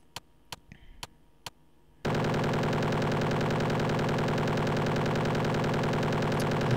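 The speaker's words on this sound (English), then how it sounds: "More loud guns." Loud, relentless rapid-fire gunfire from the Desktop Toys PC game bursts in after four sharp separate shots, then runs as a dense continuous automatic barrage that fills the rest of the clip.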